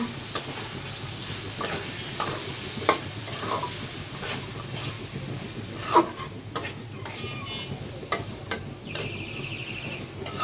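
Vegetables and dried loitta fish fry in a pan over lowered heat, giving a soft, steady sizzle broken by occasional stirring clinks, heard close without any talk.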